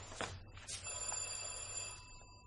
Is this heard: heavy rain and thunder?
no